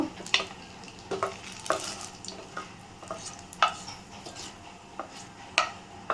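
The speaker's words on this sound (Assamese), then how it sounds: "তাত প্ৰথমতে কেইটামান কালজিৰা দিব তেলত, গৰম তেলত।" Nigella seeds, a torn bay leaf and a small chili frying in hot oil, a soft continuous sizzle broken by repeated scrapes and clinks of a spoon stirring in the pan.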